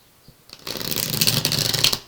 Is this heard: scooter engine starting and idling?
no